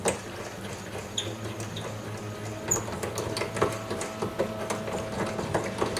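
Brass cartridge cases being trimmed in a trimmer die for 10mm and .40 Smith & Wesson, a run of close small clicks and scraping ticks in an irregular rhythm, with no talking.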